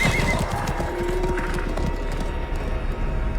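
Horse hooves clip-clop steadily and loudly through the scene while a horse neighs near the start, set amid a fantasy drama scene with a rough, busy background and no clear speech.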